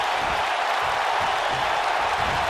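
Sold-out arena crowd in the WWE 2K19 wrestling game, a dense, steady roar of cheering and applause filling the background without a break.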